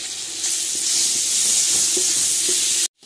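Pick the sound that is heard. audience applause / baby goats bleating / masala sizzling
masala sizzling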